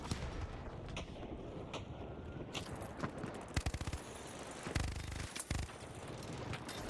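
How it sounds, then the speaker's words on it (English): Rocket launch and explosions in the video game The Finals, with rapid bursts of gunfire and sharp blasts stacked over dense, noisy combat ambience, several loud booms clustering in the second half. "Sending a rocket."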